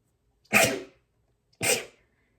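Two sharp sneezes, about a second apart, burst out close and loud against near silence.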